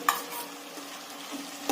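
Potatoes and vegetables are stirred in a frying pan for poha batata, with a soft, low sizzle broken by a sharp utensil clink at the start and another near the end. No one speaks.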